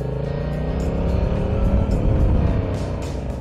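Motorcycle engine droning and rising as it accelerates down a straight on a rider training course, heard loud and close with steady road and wind rumble, no talking.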